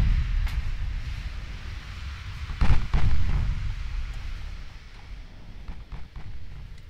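Warship guns firing in Ultimate Admiral Dreadnoughts, a series of distant booms with one louder blast near the middle, over a low steady rumble of naval battle.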